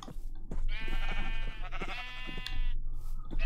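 Sheep bleating in Minecraft, a long wavering bleat with clear harmonics lasting most of the moment, loud and up close over a low steady game background hum, with no talking.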